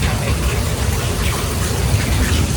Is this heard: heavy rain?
yes